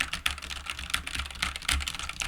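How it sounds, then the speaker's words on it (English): Brisk computer keyboard typing heard up close, uneven keystrokes with a few harder clacks, and no talking over it. "They're typing."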